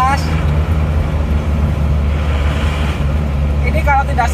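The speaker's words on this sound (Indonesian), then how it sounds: "ini gigi dimasukkan gigi 3 juga bunyi grok" Grinding from a car's manual transmission when shifted into third gear, heard as a rough rumbling drone over a steady engine note, with someone talking over it.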